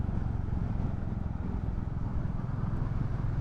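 A Royal Enfield Bullet 350 cruising on a highway, its steady low engine drone and wind roar continuous and unbroken, with no talk.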